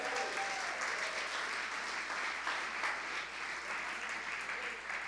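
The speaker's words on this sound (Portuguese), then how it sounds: "Você pode dar um aplauso a Jesus por isso?" A church congregation applauds, a steady wash of many hands clapping heard at a distance and filling the whole stretch, fairly even with slight swells.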